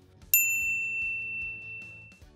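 A single bright notification bell ding strikes once and rings out in a clean, slowly fading tone over faint background music.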